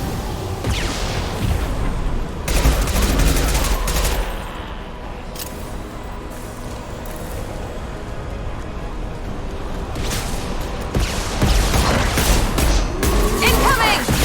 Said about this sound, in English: Firing concussive shot!